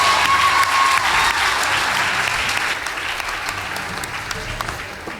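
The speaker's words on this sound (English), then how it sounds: "Please give them a round of applause." An audience at a school debate contest gives strong, dense applause that starts loud and gradually tapers to a softer, thinning patter, with a brief whistle near the start.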